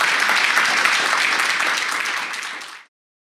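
Applause from a live audience at a 518 Talks show after a spoken-word performance, dense steady clapping that fades out after about three seconds.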